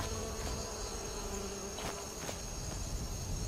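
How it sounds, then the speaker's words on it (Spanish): Bees buzz steadily in the video game Skyrim, a continuous insect drone lasting the whole moment, with a couple of brief, fainter thumps partway through. "Hay abejas aquí, miren."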